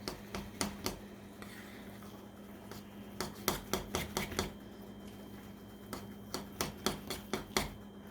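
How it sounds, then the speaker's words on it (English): A utensil knocks and scrapes against a pan in uneven bursts of sharp taps while mixing cornbread batter, with quieter stretches of rubbing between them. "And just mix that up real good."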